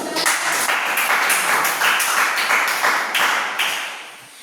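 Students in a classroom clap together in a rhythmic, unified pattern, bursts of sharp hand claps repeating in a steady beat, close and fairly loud, with no talking.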